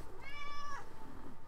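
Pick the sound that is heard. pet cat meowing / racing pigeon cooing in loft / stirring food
pet cat meowing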